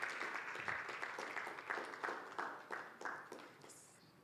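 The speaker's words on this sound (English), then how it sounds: "Please give them a round of applause as they come to the stage." Applause from an audience at an EdTech fellowship demo day as fellows walk up to the stage, a steady wash of clapping with sharper individual claps, fairly close and fading slightly toward the end.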